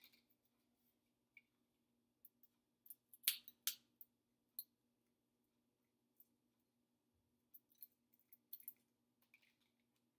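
Scissors cut drinking straws into pieces for a maze craft, giving sparse, faint snips and clicks at irregular intervals against a quiet background.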